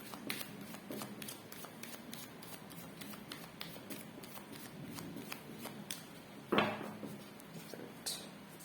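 Tarot cards being shuffled by hand, a soft, steady run of riffling flicks and papery taps at low level, with one brief louder rustle near the end and talk faintly in the background.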